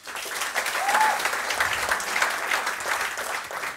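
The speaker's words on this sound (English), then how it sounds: "Round of applause." Sustained audience applause from a live late-night show crowd, steady and fairly loud for the whole stretch with no pauses.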